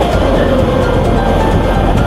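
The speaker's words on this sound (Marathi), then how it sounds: "आपण जनशताब्दी ट्रेनने चाललो आहे" The Janshatabdi Express runs on rails out of Thane in the early morning, with a loud, continuous rumble and a rhythmic clatter of wheels heard from on board.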